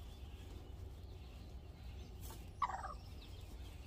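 A broody hen sitting in a box gives a short, sudden gobbling cluck after a quiet stretch of low background hum, close by and brief.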